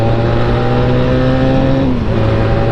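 A small-displacement car of about 400 cc, fitted with ABS brakes, revs hard as it accelerates. The loud, close engine whine climbs steadily in pitch, then drops briefly at a gear change near the end.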